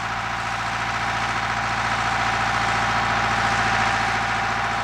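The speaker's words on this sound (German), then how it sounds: "Herbert Dick fährt zum Auflockern des Bodens mit dem Grubber durch die Reihen." A tractor hauls a cultivator through hop rows to loosen the soil, its engine droning close and steady with a regular knocking pulse that swells slightly toward the end.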